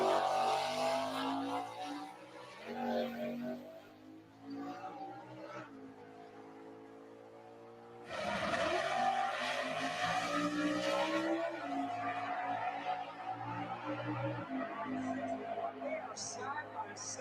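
A no-prep drag race car runs loudly, its engine howling and revving with rising and falling pitch, a sharp surge of noise midway, and people talking over the racket.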